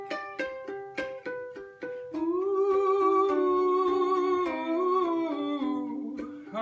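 A ukulele plays a riff, opening with a run of crisp plucked notes before settling into sustained, strummed-sounding chords, close and clear with no voices.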